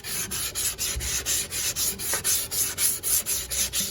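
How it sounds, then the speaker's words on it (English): 220-grit sandpaper rubs a dent in a wooden bookshelf in quick, even back-and-forth strokes, a close, steady scratchy rhythm with no talk. "that should be able to be taken out with some sandpaper. This is some 220."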